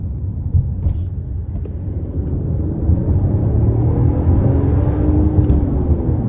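A 2025 Mercedes-Benz E450 wagon set in sport mode gives a deep engine rumble that swells as it accelerates, rising pitch sweeping upward over road noise.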